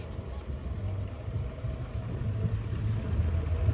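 A petrol/TVO Fordson Major tractor engine idles continuously with a low, steady rumble, a deep chugging drone with no speech, at a steam rally.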